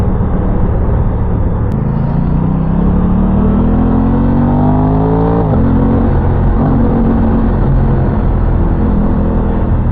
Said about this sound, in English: Nice induction sound, nice and nimble